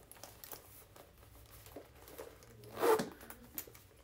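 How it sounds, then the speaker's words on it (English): A zipper on a small Dooney & Bourke barrel bag is pulled closed, giving a soft, close rasp that swells into one brief louder burst near the end, with no talking. "Let me zip it up."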